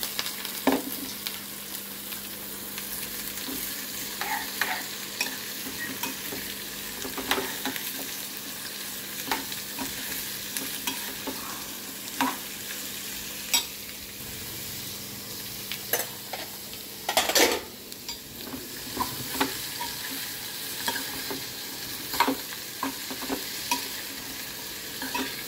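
Mixed vegetables for a curry sizzle steadily in a pan, with repeated scraping stir strokes over the continuous frying hiss.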